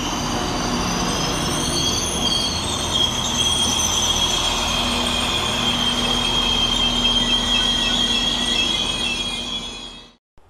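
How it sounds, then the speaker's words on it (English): Northern train 195110 arriving at Deansgate station in Manchester on the Liverpool Lime Street to Manchester Oxford Road service, with steady rolling wheel noise and high, sustained wheel squeal that fades out sharply at the end, no talking. "And arriving 5 minutes late is our train 195110, working the 14:33 Northern service from Liverpool Lime Street to Manchester Oxford Road"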